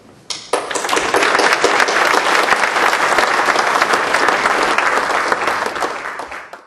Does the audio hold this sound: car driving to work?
no